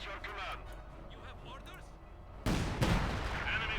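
A KV-2 tank firing 152mm high-explosive shells in Company of Heroes 2, one heavy blast bursting out near the end over battle noise while a commentator talks throughout.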